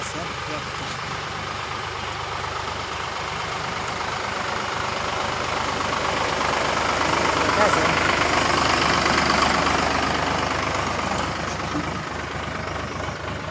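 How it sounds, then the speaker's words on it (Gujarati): A tractor engine rumbles steadily nearby in a farm field, swelling louder midway as it turns, then easing back to a constant drone. "ટ્રેક્ટર વાળીને આવે છે"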